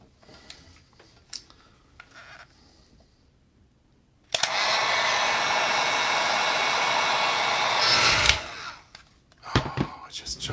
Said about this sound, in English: And then grab your heat gun.